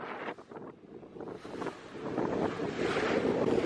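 Wind and waves aboard a sailboat off Belize: a steady, rushing roar of gusts buffeting the microphone, with surging water swelling louder toward the end.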